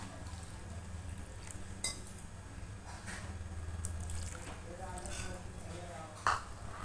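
Rava idli batter of semolina, curd and water is stirred in a bowl, with soft wet scraping and occasional clinks of a spoon against the bowl. A faint voice speaks briefly in the background.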